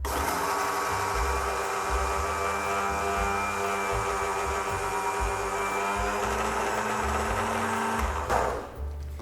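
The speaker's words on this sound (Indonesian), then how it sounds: "Sekarang kita blender guys" Kitchen blender grinding dried maggots into powder, a loud steady whirring motor running for several seconds, then winding down abruptly near the end, with no talk.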